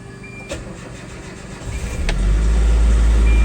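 A fuel-injected Japanese pickup truck with a distributor cranks over and fires up, its low engine rumble swelling and settling into a steady, close idle.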